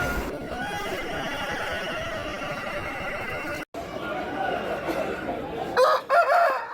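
A rooster crows loudly near the end over a steady background of farmyard noise and murmuring at a poultry market in Machilipatnam, following a brief break in the sound.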